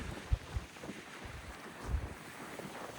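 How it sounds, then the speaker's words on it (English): Faint wind rushes and buffets the microphone outdoors in rural Scotland, with low thumping gusts and a soft, steady hiss underneath. "as you can see and hear, it's pretty, I don't know if you can hear me, it's pretty windy."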